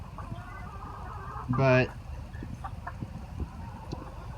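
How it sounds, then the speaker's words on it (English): A chicken in a mid-January Zone 9 vegetable garden lets out one short, loud squawking cluck close by, set against quiet outdoor background with a voice speaking briefly. "these chickens keep coming over into our garden and just tearing it up"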